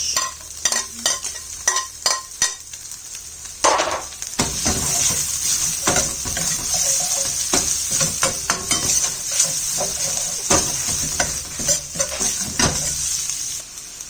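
Garlic, ginger and onions stir-fry in oil for fried rice, a steady close sizzle broken by repeated sharp scrapes and clacks of a utensil against the pan.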